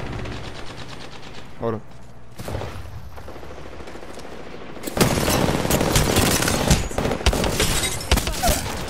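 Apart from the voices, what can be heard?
gunfire in video game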